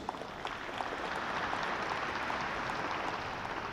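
Steady audience applause at a congress of authorities in Minas Centro, Belo Horizonte, a dense even wash of many hands clapping throughout, fairly close and unbroken.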